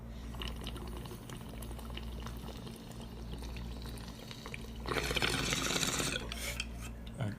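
Water gurgling and bubbling in a bong as a hit is pulled, a steady low bubbling that swells louder and brighter for a couple of seconds near the end, close and with no talking.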